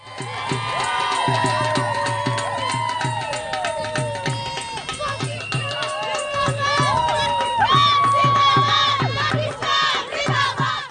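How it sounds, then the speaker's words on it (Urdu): Pakistani supporters chant slogans and cheer after the women's cricket team wins a final in Bradford, a loud crowd shouting in rhythmic bursts with overlapping voices and whoops throughout. "میچ کی جیت پر پاکستانی سپورٹرز نے پاکستان زندہ باد کے فلک شگاف نعرے لگائے اور فضا نعروں سے گونج اٹھی"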